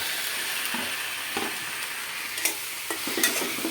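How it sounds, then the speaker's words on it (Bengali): Tomato and green chili frying in a pan while being stirred, a continuous bright sizzle with intermittent scraping knocks of the spoon, growing busier toward the end, no voices. "এখন পুরো টমেটোটা কাঁচামরিচ করে সব ঢেলে দেবো।"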